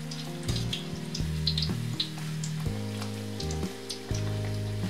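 A homemade taco shell fries in hot oil on a stovetop, a soft bubbling sizzle beneath a loud, steady tonal hum with clicks and shifting pitch steps.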